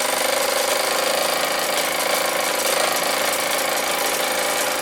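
A Meccano MEC1 model steam engine drives a six-tool workshop of two hammers, two presses, a grinder and a polisher, making a loud, steady mechanical rattle and rapid tapping that runs without a break close to the microphone.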